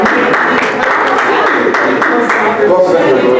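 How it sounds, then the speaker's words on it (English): Audience applause fills a meeting room at an information day, steady dense clapping throughout with a murmur of voices underneath. "Give a round of applause, please."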